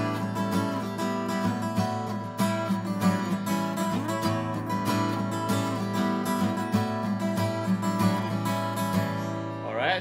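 Electric guitar playing a blues in E, a steady stream of chords and single-note licks with sustained harmonics, loud and close, ringing out alone with no talk before a brief fade near the end.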